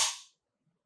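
CZ 75 P01 Compact pistol dry-fired in double action gives a single sharp, close hammer click that fades within a fraction of a second into silence.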